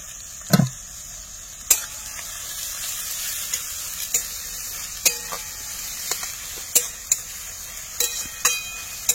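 Onions dropped into hot oil left from frying potatoes, cooked outdoors in a village setting for desi chicken masala, give a continuous sizzle. Scattered sharp clinks and knocks of a utensil against the pan mark the stirring.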